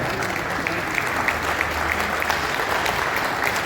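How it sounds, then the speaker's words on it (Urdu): An indoor audience at a formal gathering bursts into sustained applause to welcome a speaker, dense clapping from many hands, loud and close, holding steady with no lull. "آپ سب کو بھرپور تالیوں میں"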